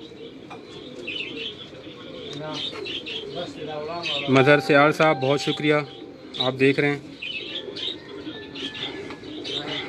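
Pigeons cooing nearby in a loft, soft repeated coos with a few chirps and wing flutters, partly under someone talking.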